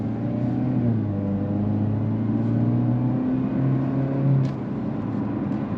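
Close, steady engine drone from a 2023 Chevy Camaro LT, rising in pitch through one continuous pull, heard from inside the car without talking.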